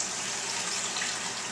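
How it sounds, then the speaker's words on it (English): Chicken stock poured into a simmering tomato ragu gives a steady, even liquid gush that runs unbroken and fairly loud throughout. "We're going to add in our chicken stock."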